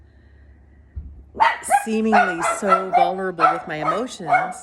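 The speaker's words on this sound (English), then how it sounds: "I'm sorry about the dog." A dog barks and yips repeatedly in close, loud bursts with some whimpering, overlapping a person who keeps talking.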